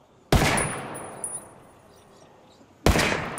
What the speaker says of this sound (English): We're just going to see how many shots it takes to blow up one of these vehicles here.